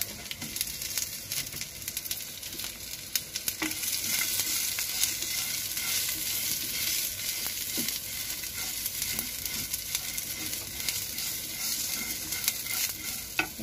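Garlic and onion fry in a hot pan with mustard seeds for horse gram saru, a dense, continuous close sizzle broken by small crackles and spatula stirring, with no talking.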